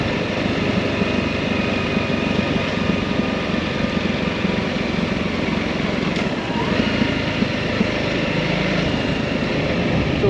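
An off-road motorbike engine drones steadily and close while being ridden through grassy countryside, a continuous buzzing hum that never lets up.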